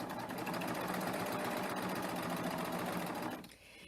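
A 3-thread narrow overlock serger stitches along a fabric edge while its knife trims the excess: a fast, even mechanical whirr at close range that winds down and stops near the end.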